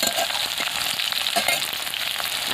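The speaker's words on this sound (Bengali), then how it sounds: "আর ঢ্যাঁড়সটা এমনভাবে ভেজে নিতে হবে যেন ঢ্যাঁড়সের মধ্যে ভীষণ গন্ধটা না থাকে" Whole okra sizzling in a pan of hot oil with mustard-chili five-spice tempering gives a steady, close, bright frying crackle with faint stirring, no voices.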